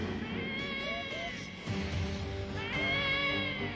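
A cat meows repeatedly in a drawn-out, whining caterwaul with wavering pitch, close and fairly loud, in several long cries over a few seconds.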